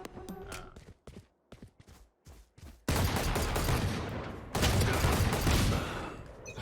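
Gunfire from a one-on-one video game match: several short, sharp bursts of shots separated by gaps, then a dense, loud stretch of sustained firing that carries on to the end.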